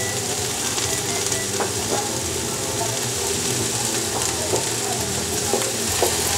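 Vegetable achards stirred with garlic powder in a hot pan: a constant frying sizzle with scattered light scrapes and clicks of the utensil, close by, with no talk.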